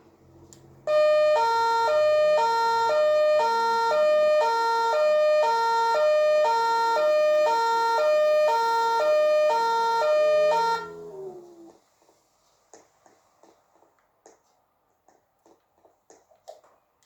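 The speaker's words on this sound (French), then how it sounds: "Oulala, là-bas, je vois les pompiers." A French fire engine siren wails loud and close in a steady two-tone pattern for about ten seconds, then cuts off, leaving faint scattered background noises.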